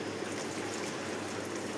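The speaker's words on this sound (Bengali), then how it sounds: "এবার অল্প পরিমাণে জল দিয়ে দিলাম একটু" Water poured into a pan of ilish fish curry with eggplant and potato, a steady, soft trickling stream throughout, with no voices.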